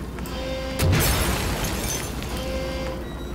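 A sudden booming blast with a burst of crackling debris in the video game Amnesia: A Machine for Pigs, then a rumbling tail over a steady electronic hum and background game noise.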